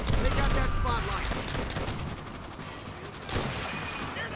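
Dense, sustained rifle and machine-gun fire in the WWII shooter Call of Duty: World at War, a near continuous rattle of overlapping shots with a louder burst near the end, busy battlefield din throughout.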